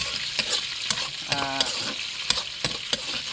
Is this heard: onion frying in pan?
yes